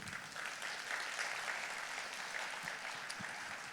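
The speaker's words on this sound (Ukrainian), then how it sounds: "Тому оплесками нашим ЗСУ." Audience applause after a talk on robotic technology in agriculture, an even, continuous patter of many hands heard from a distance at moderate level, with no one speaking.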